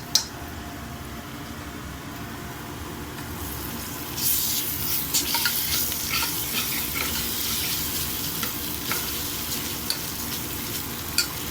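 Ginger garlic paste dropped into hot oil in a pan for a bottle gourd curry, a quiet hiss that swells into a loud, steady sizzle with scattered spits and pops.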